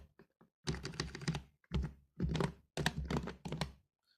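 Keys clatter on a computer keyboard in a few quick bursts, close and fairly loud, with brief silent gaps between the clusters of presses.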